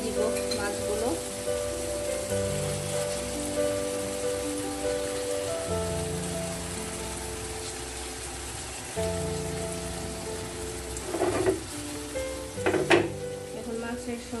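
Koral fish fries in tomato masala in a pan, a steady close crackling sizzle throughout, with a few louder spatters and stirring scrapes near the end.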